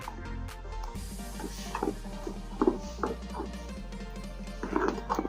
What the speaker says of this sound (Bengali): এখন একই ডাইরেকশানে কিছুক্ষণ সময় নিয়ে মিশিয়ে নেব।